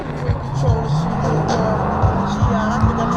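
Three cars drifting in tandem at a drifting event, a loud continuous roar of engines with tire squeal and a few brief bursts.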